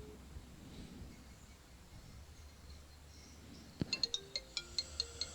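A phone ringtone signals an incoming call to a Thai Buddhist dharma radio program, a short series of evenly spaced electronic beeps starting near the end of the clip over a quiet, hissy background.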